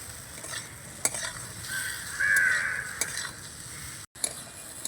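Okra curry with added salt is stirred in a frying pan: a close, scraping stir over a gentle sizzle, swelling briefly midway and cutting out for a moment near the end, with no talking.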